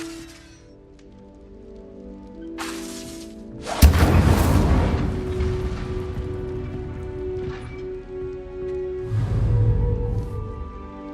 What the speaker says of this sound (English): Incendio! Setting things ablaze is certainly cathartic, isn't it?